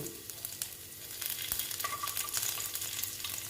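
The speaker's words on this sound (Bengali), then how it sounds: "আমি রসুনটা ভালো মতন ভেজে নিচ্ছি" Garlic fries in a pan beside black cumin, a soft continuous sizzle with faint crackles and occasional stirring scrapes.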